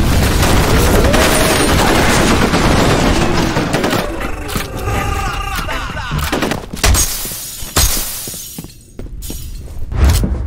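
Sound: grenade explosion and gunfire in video game F.E.A.R. Combat

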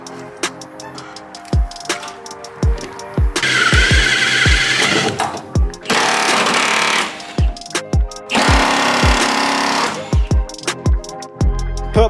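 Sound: half inch Milwaukee impact wrench removing bolts

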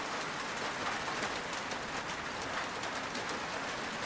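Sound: rain falling

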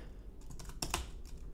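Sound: typing a keyboard shortcut on a computer keyboard

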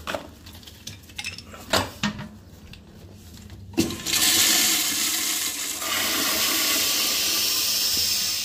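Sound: flushometer toilet flushing

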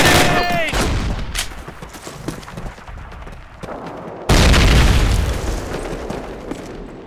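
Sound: enemy grenade explosion in Call of Duty video game

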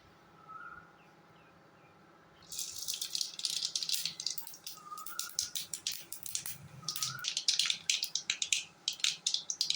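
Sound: mustard seeds spluttering in hot oil in a pan

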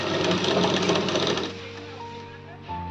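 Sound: sewing machine stitching a kaftan nightie

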